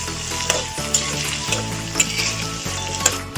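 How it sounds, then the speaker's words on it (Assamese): Onions with a bay leaf fry in a pan, a steady close sizzle with regular scraping stirs roughly every half second, heard on its own. "এতিয়া পিঁয়াজখিনি ভাজি থাকিম"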